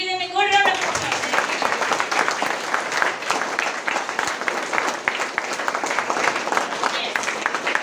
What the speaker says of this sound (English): give them a good round of applause